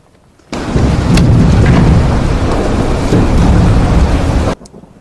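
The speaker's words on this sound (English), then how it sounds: "as you can hear, the storm has appeared, and the boat is tossing and turning all over the place" A fierce storm in a tabletop adventure at sea, with a boat tossing, brings dense, loud, roaring rain and rumbling thunder that start abruptly, hold steady for about four seconds, then cut off sharply.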